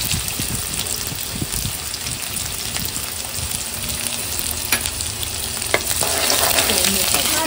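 Onion and curry leaves tempering in hot oil for a Malvani cashew curry, a loud, dense crackling sizzle with scattered pops and spoon stirs that swells slightly toward the end, no voices.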